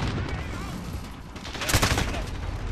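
Call of Duty: Modern Warfare gunfire rattles as a dense, continuous stream of shots that swells near the end, with voices in the game mix underneath.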